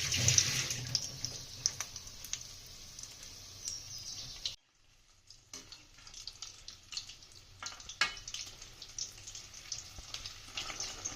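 Soybean devils crackle and bubble in hot oil, a faint, steady sizzle with scattered pops that cuts out briefly midway before resuming more quietly with sporadic spits.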